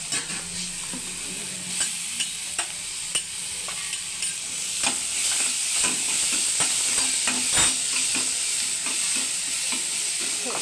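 Tomato and beans fry in a pan with a steady close sizzle, broken by intermittent scraping stirs.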